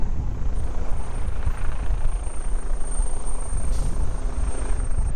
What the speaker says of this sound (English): There's a chopper above me that's still pretty loud.